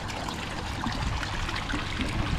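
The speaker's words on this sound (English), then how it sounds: "you have an aerator in the corner and that the fish need the movement of the water" Water churned by a pond aerator trickles and splashes steadily, a continuous close wash of bubbling and moving water with no voices.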